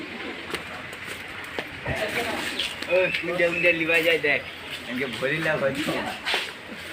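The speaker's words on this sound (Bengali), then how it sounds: "কতগুলো পায়রা একসাথে এখানে আছে" Pigeons cooing together inside a temple, a soft repeated murmur of coos heard beneath people talking nearby.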